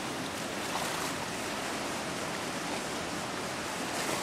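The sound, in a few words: flooded Thornapple River rushing over Ada Dam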